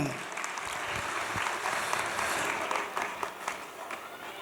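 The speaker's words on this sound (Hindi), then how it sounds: "उनके लिए भी आप ताली बजाइए" Audience applause for a dance teacher at a school annual function, a steady wash of many hands clapping throughout, moderately loud, with faint voices underneath.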